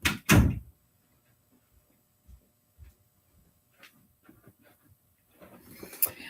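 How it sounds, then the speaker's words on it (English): A door is moved near a stamping craft table, with a loud thump at the start, then quiet scattered soft knocks and shuffles, and a scraping rustle near the end. "So I'm going to move the door here"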